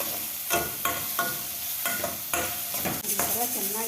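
Capsicum frying in oil in a pan, a close sizzle broken by a regular series of scraping stirs, roughly one every half second.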